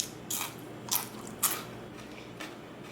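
Oil-free oven-baked fries, crisp halfway through baking, give three or four sharp, separate crunches spaced across a few seconds, close but fairly quiet over a soft background hiss.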